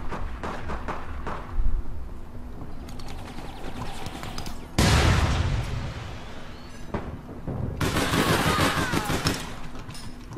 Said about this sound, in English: What the fuck are you still shooting at?